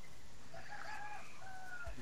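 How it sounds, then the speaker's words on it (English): Chickens clucking in the background behind a home gaming setup, faint warbling calls drifting in and out at a distance. "Alright, shut up, chickens. Sorry about the background noise"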